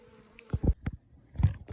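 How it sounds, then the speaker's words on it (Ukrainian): A few brief buzzing bursts from a honey bee flying out of a hive, close by and fairly quiet, with short gaps between them. "Бачите, бджола вилітає"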